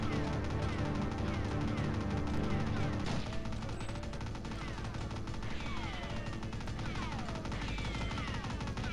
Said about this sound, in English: I hear gunfire, but where am I taking it from?